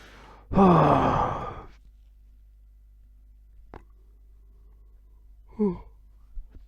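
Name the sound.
yawning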